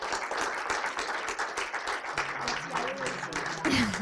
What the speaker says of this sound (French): Je crois qu'on peut les applaudir parce que...